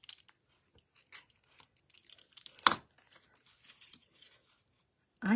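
Sticker backing paper is peeled off a piece from a rustic Christmas countdown kit, giving faint papery crackles and light taps, then a sharper rip partway through, with quiet gaps in between.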